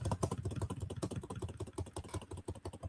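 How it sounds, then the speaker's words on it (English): Rapid, uneven clatter of keys being typed on a computer keyboard, close by and steady throughout, with no voices. "I'm just typing in a bunch of letters."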